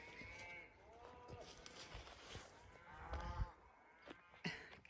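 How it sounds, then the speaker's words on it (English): Cows moo in a garden setting, several drawn-out calls overlapping at a moderate distance, with faint outdoor background noise between them. "Cows are going for it."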